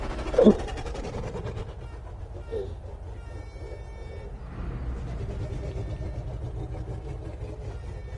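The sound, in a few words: train approaching in GTA 5 video game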